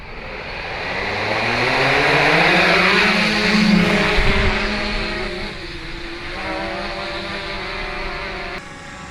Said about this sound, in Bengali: এখনই ড্রোনটা আকাশে উড়বে।